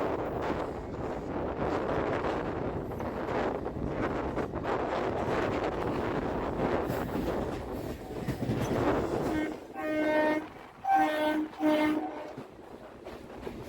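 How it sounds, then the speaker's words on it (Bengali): A local train running onto the Howrah-Bardhaman main line rumbles steadily near the carriage with wind buffeting, then a loud multi-tone train horn sounds in several blasts toward the end. "সামনেই আমাদের ট্রেনটা ঢুকবে হাওড়া বর্ধমান মেন লাইনে"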